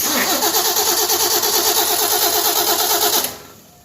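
A Ford Mustang's starter cranks the engine in a fast, even, loud chugging rhythm for about three seconds before cutting off abruptly into near quiet.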